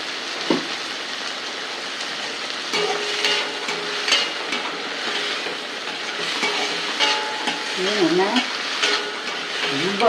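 Vegetables with salt and grated coconut sauté in a pan for sambar: a steady sizzle with repeated scraping and stirring, some tonal clatter and faint background voices.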